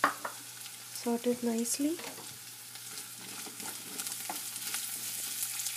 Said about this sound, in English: Now I'm going to add chopped shallots, onion, small onion,